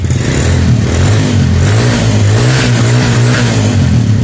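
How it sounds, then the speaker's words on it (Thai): A stationary motorcycle in first gear with the clutch lever held revs loudly and continuously up close, a steady throaty drone rising and holding with no pauses. "ผมบิดคันเร่ง"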